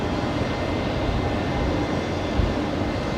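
A Qantas aircraft taxis at night at Brisbane Airport, a loud steady broadband engine roar that holds constant and nearby without pause.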